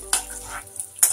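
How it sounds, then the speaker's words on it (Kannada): Chana dal and urad dal temper in hot oil, a steady close sizzle punctuated by two sharp metallic scrapes of a spoon against the pan, with no talk. "ನೋಡಿ, ಈ ಥರ ಒಂದು ನಿಮಿಷ ಫ್ರೈ ಮಾಡಿಕೊಂಡ್ರೆ ಇದಾಗುತ್ತೆ, ಒಗ್ಗರಣೆ ಆಗುತ್ತೆ."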